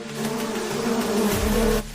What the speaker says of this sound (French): Essaim de guêpe hautement toxique, rang 1.